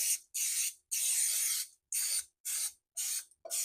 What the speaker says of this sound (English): Spray this really good.